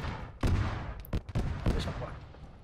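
Gunfire in the military shooter game Arma 3, several sharp reports and a short burst cracking out irregularly at close range, with a voice speaking in between.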